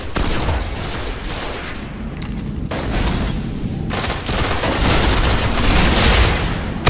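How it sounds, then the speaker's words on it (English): A video game firefight with shotguns: dense, loud bursts of gunfire crackle continuously, with overlapping shots and booms swelling and easing over several seconds. "I haven't seen a firefight like that since Twilight Gap."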